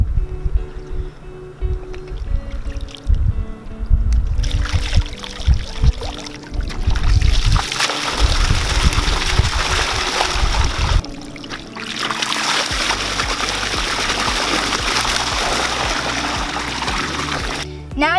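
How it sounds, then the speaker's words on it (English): Water from swimming pool cover water bags drains back into an inground vinyl-liner pool, a steady rushing pour and trickle that swells and continues loudly for most of the stretch, with some knocking and handling noises early on. "To help conserve water, you can put the water from the water bags back in the pool."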